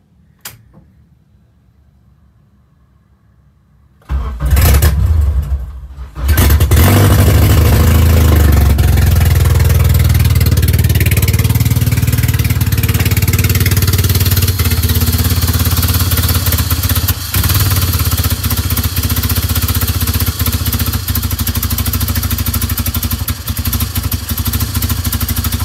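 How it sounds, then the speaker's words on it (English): A Honda K20A engine, freshly K-swapped and run with a PRC Type R ECU, is silent at first, cranks briefly, then catches and runs loudly and steadily at a close idle with a rough, throbbing note for the rest of the time. "Got the engine started."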